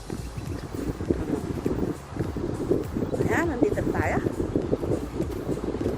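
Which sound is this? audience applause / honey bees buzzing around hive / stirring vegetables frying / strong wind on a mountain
strong wind on a mountain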